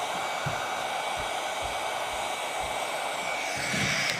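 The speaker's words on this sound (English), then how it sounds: "you can dry your paint with a heat gun in about 10 to 20 seconds" A heat gun drying paint, a steady, loud, breathy blower hiss that runs unbroken and close throughout with no voices.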